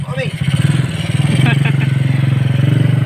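A motorcycle engine chugs steadily nearby with a rhythmic low putter, while people talk over it.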